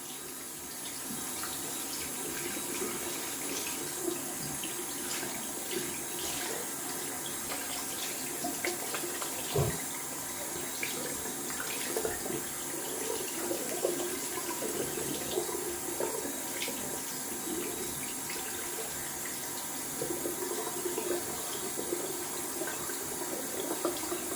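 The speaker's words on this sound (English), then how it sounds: "I'm gonna wash out the brush" Tap water running steadily into a sink while a synthetic-knot shaving brush is rinsed out, a continuous close hiss and splash with small irregular sloshes from the brush being worked under the stream.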